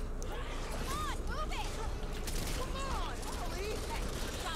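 Video game gunfire in a co-op shooter: rapid shots crackle steadily throughout under loud, busy game noise, with some voice-like sound mixed in.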